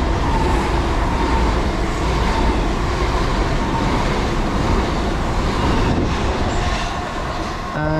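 A Class 377 electric train, unit 377107, passing on the West Coastway line near Hove: a loud, continuous rumble and rattle of wheels on rails, with a brief wheel squeal near the end.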